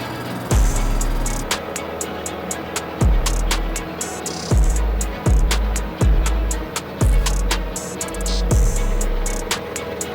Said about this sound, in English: throw this thing in the milling machine and mill it flat